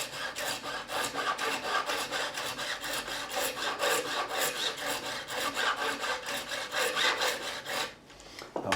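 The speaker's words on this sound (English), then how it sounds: "I'm going to go across with the profiling file, remove any excess, and all we're going to do, we're going to tidy up the edges and just remove any burrs" A profiling file worked across the frets of an Epiphone Les Paul Standard to tidy edges and remove burrs, giving a close continuous rasping scrape with a rapid stroke rhythm, alone and without speech, fading out near the end.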